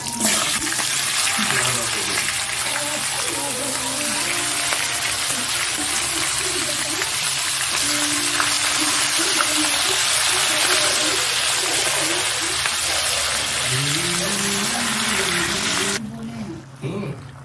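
Water spinach greens drop into hot oil and sizzle with a loud, continuous hiss that runs for most of the stretch before cutting off near the end, while a voice talks over it.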